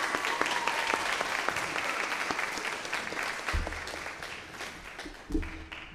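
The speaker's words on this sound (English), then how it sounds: "Can I get a round of applause for this?" A year-end band pops concert crowd gives a steady, moderate round of applause lasting several seconds, with a few low thumps toward the end.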